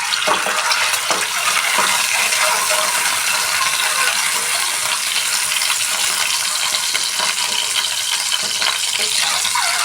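Eggs frying in hot oil for egg curry, giving a steady, bright sizzle and crackle that runs close and continuous with no one talking.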